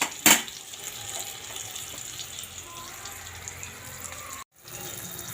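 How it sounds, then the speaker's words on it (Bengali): Eggplant slices fry slowly in oil, a soft continuous sizzle with a brief sharp clatter near the start and a momentary dropout near the end. "আস্তে আস্তে জালে বেগুনটা ভেজে নিচ্ছি"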